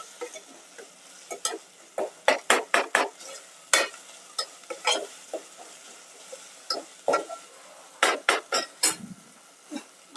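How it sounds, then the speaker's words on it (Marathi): Coconut masala sautéed in oil in a pan for Maharashtrian mutton sukha, with repeated sharp spatula scrapes and taps against the pan in irregular bursts over a quiet low sizzle, close and without talk. "खोबऱ्याचा चांगलं तेल सुटेपर्यंत परतायचं."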